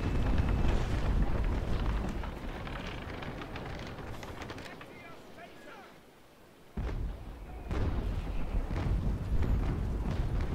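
Cannon fire against a ship during a port raid in the naval video game Naval Action: dense, rumbling booms roll continuously, ease off into a brief lull, then resume loudly, with voices talking over them.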